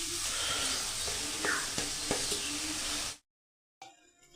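Chicken fried rice with fried chicken, egg, spring onion and chopped coriander stirred in a hot pan, a steady sizzling hiss with a few soft knocks of the spatula, cutting off abruptly near the end.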